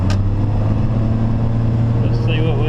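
A first-generation 12-valve Cummins diesel pickup accelerates uphill while towing, its loud, steady low engine drone and whine filling the cab under a voice.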